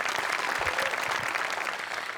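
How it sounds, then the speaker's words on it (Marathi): An audience claps at a live stage show, a dense, loud and steady burst of applause from a crowd that continues without letting up. "टाळ्या"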